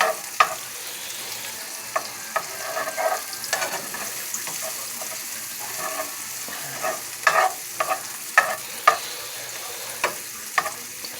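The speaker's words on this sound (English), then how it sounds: "So we're still cooking our mushrooms down" Mushrooms cooking down in butter in a pan make a soft, steady sizzle, with irregular sharper clinks and scrapes of stirring rising above it.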